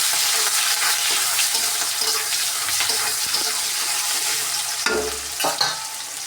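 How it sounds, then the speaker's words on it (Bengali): Chopped onions frying in hot oil in a home kitchen, a steady close crackling sizzle with occasional stirring scrapes and clatters near the end. "আর তেলের মধ্যে দিয়ে দিব পেঁয়াজ কুচি। পেঁয়াজ কুচিটাকে আমি লাল করে ভেজে নেব।"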